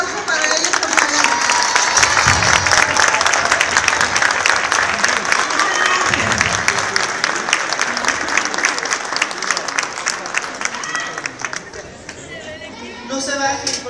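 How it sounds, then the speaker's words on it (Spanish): Loud applause from a theatre audience at a Christmas pastorela play greeting new performers, sustained clapping with crowd chatter and a voice speaking over it, thinning toward the end. "Un aplauso para ellos, por favor."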